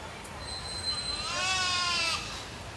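A meat goat lets out a single wavering bleat at a 4-H and FFA county fair livestock show, fairly close and clear over low hall murmur, swelling in the middle and trailing off.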